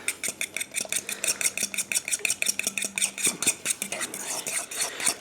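Stuffed mushroom filling with a whole egg dropped in is stirred vigorously in a bowl, giving a fast, steady rhythm of close scraping and clinking with no talk.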